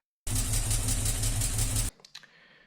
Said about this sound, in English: So I got the car started, but it was making a bit of a knocking sound.